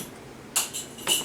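Two or three light metallic clinks from a cat toy, close and quiet, spaced about half a second apart over a faint background hiss.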